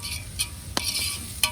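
A hot tempering (phodni) sizzles in a pan, crackling close by with sharp bursts of spattering and stirring over a low background hum.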